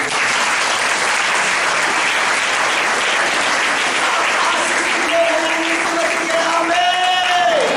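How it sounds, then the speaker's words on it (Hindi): A church congregation bursts into sustained, dense clapping at a Hindi-language healing service, loud and continuous with a few voices calling out near the end. "ताली बजा से"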